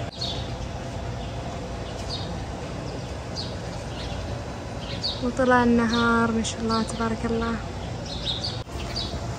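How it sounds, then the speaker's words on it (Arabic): Birds chirp and tweet in short bursts against steady background noise, with a person speaking over part of it. "يزين صوت العصافير."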